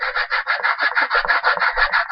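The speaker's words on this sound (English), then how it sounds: "you're obviously sanding it." Sandpaper rubs back and forth over paper-covered chipboard for a mini album, making a close, rhythmic rasping of quick even strokes at roughly four or five per second with no talking.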